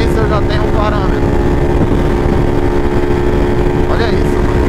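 Motorcycle engine fitted with 14/36 gearing, revving loud and close with a steady throaty roar and rising pitch sweeps, while someone talks over the engine.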